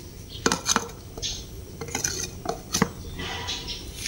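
Metal cookware clanks while cooking in a small pot, with several sharp clinks and scrapes at an uneven pace, close and fairly loud, and one could be the lid being set on.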